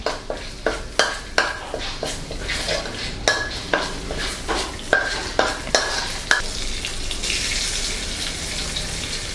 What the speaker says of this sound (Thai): เราจะผัดด้วยไฟอ่อนๆ